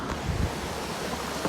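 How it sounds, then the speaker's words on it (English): Rushing water at Pogilla Waterfalls, a steady broadband roar that stays fairly loud and even throughout, with no voices over it. "this is another angle of Pogilla Waterfalls"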